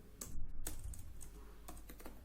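Sparse keystrokes on a computer keyboard while coding, a few quiet separate clicks near the microphone with short pauses between them.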